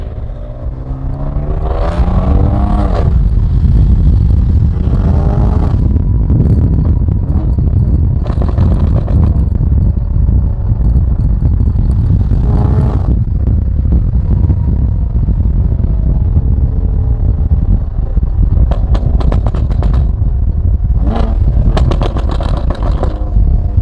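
A BMW M4 engine roars loudly and continuously at close range, with repeated rising revs and brief crackling pops between pulls.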